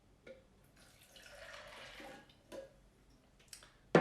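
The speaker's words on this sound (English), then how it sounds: "then we add the water." Water is poured into a vegan cashew cheese mixture in a home kitchen: a soft, splashy pour lasting about a second and a half, with faint clicks and taps before and after, quiet and close.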